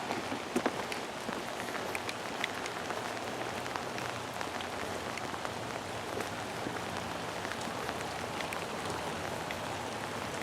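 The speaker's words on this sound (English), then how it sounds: "It's a cold and dreary day around here. But we need the rain." Steady rain patters on surfaces on a cold, dreary day, a dense even hiss with scattered drop ticks throughout, fairly faint and with no voices.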